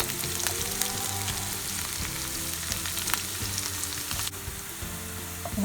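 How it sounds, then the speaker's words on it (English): Chopped onions frying with ginger and garlic in a pan while cooking saag, giving a steady, close sizzle with light crackles and occasional stirring scrapes throughout, with no talking. "We will add the chopped onions. We will cook them until they are well cooked."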